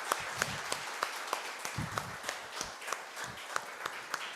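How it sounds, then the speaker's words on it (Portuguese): A church congregation claps in a regular rhythm that sounds faint and somewhat distant, with soft, steady claps spaced roughly three per second over low background noise. "Você pode aplaudir ao Senhor, queridos?"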